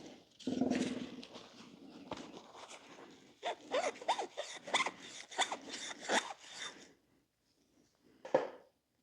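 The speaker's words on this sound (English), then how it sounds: "I'm just going to get a rag with some brake clean and wipe that off" A rag soaked in brake cleaner wipes grime off an engine part during B58 injector replacement, a series of close, scratchy rubbing strokes in uneven rhythm, pausing near the end before one last wipe.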